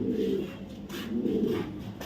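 Racing pigeons give low, rolling coos in two or three close, bubbling phrases, fairly near and alone with no talk.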